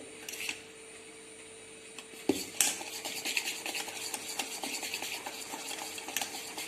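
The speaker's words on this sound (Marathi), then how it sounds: "हलवून घ्या. बॅटर एकदम हलकं झालं पाहिजे." Dhokla batter stirred in a bowl just after soda is added, with soft repeated scraping and clinking of a spoon against the vessel, close and steady with no talking.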